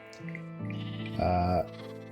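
Sheep in modded Minecraft bleat in a few short, drawn-out tonal calls, clear and close in a game soundscape, with no talking over them.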